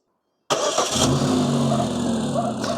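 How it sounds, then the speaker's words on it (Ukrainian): A car engine cranks and catches after a moment of silence, then settles into a steady, loud idle close by, with the engine running on alone, while a LiFePO4 battery charges from the vehicle. "і заводжу авто"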